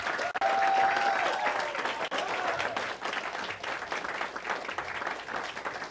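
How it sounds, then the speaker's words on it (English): Sustained audience applause for athletes at a school board meeting, dense and steady clapping from many hands throughout, fairly close, with a faint voice briefly audible early on. "if you'd please join me in one more round of applause for all of our athletes"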